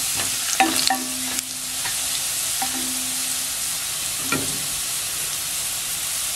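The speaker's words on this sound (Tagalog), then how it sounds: "Lutuin natin ito hanggang medyo mag-brown yung bawang." Garlic frying in oil in a pan for sautéed patola with misua, giving a steady close sizzle with a few scraping stirs and no voices.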